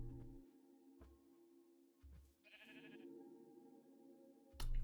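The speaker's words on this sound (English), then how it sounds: "Yep, sheep." Sheep bleating in a modded Minecraft survival server: faint, wavering calls over quiet game sounds, with a brief brighter tone partway through and a louder sound right at the end.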